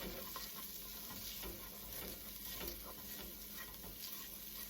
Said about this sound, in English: we're going to cook it until those vegetables are soft, tender